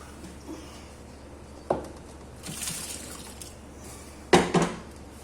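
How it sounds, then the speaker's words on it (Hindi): Rice for a large batch of sweet zarda is tipped into a pot of boiling water, giving a few soft splashing pours and bursts of liquid, with quiet bubbling and clatter in between, heard up close without talk. "बस अब चावल डालते हैं।"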